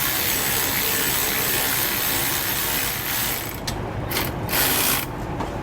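A 3/8 socket ratchet snugs down bolts on a Lippert Ground Control leveling system for a 5th wheel RV, producing a steady, close, loud run of rapid clicking and grinding that roughens and breaks up slightly toward the end.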